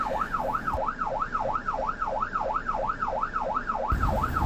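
An ambulance siren wails in a fast, regular up-and-down yelp, loud and near, over traffic rumble with no voices.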